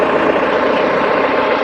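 A 2023 TYM T574HC tractor's diesel engine, glow plugs preheated, runs with a loud, steady, close-up rumble that holds even throughout.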